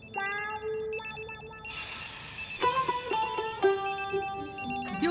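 A telephone rings repeatedly with bright electronic tones in an indoor scene, the ringing continuing steadily for several seconds with no talk over it.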